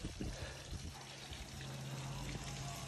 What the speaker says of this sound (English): Nice little waterfall out front.